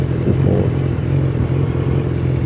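A 2015 BMW S1000R motorcycle engine runs loud and close, with a deep steady drone and a slight throttle swell early on. The tone stays mostly even through the rest of the clip.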